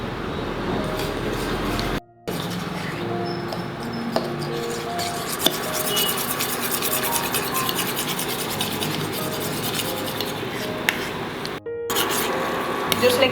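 A spoon stirs thick, slightly sticky lemon coriander soup in a pot, making continuous close scraping and rubbing sounds with a couple of brief pauses, and a person talks over parts of it.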